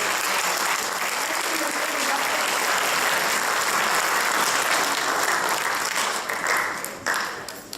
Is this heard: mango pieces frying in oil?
no